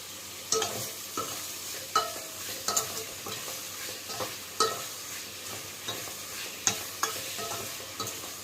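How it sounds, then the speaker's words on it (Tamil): An okra tamarind curry base of tomatoes with rock salt is sautéed in a pan, giving a quiet continuous sizzle broken by repeated scraping and tapping strokes of a spatula. "ஒரு 2 நிமிஷம் வதக்கிட்டே இருங்க"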